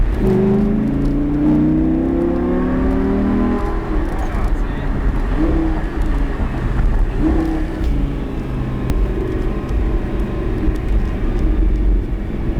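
A car accelerates with a loud engine drone that rises in pitch over the first few seconds, then settles into a steady road roar heard from inside the vehicle, with voices over it.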